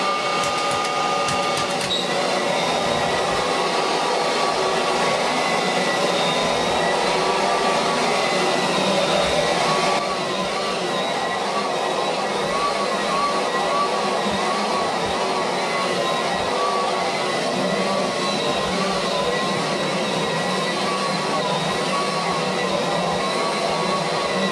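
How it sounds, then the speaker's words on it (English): A Kirby Legend 2 vacuum with rug shampooer attachment runs continuously with a steady, loud motor whine and rushing hiss, holding constant throughout with no voices. "I might leave the rug renovator on and renovate that end first and then vacuum it off"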